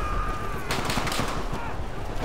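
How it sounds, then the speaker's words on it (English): Artillery fire and gunfire in the video game Call of Duty: World at War, a burst of heavy blasts and rapid shots erupting over a rumbling backdrop, fairly loud and close. "Incoming artillery fire."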